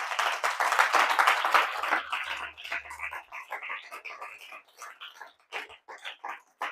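A church congregation claps and cheers in praise of the Lord, with dense applause at first that thins into scattered, uneven claps as it dies down.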